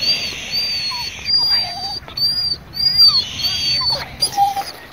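Impatient dogs in a barn whimper and whine in high, wavering cries, several overlapping yips and whistly whines coming in bursts over a few seconds.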